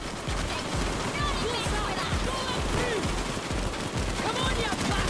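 Sustained gunfire in a PAYDAY 2 heist shootout at a Brooklyn bank: steady, rapid volleys of automatic weapons firing throughout, forming a continuous loud barrage with shouted voices mixed in.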